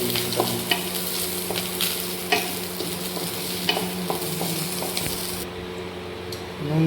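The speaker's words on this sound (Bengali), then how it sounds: "নুন দিয়েছি আর জিরে গুঁড়ো, ধনে গুঁড়ো দিয়েছি। একটু কষে নেবো" Salt, cumin powder and coriander powder sauté in a little leftover oil with ginger paste in a wok, giving a steady close sizzle broken by sharp scrapes and clacks of a spatula stirring throughout.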